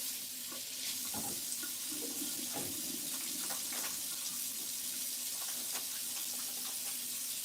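Water runs steadily from a kitchen tap as hands are washed beneath it, a continuous close splashing hiss with small irregular splatters and clinks throughout, no talking.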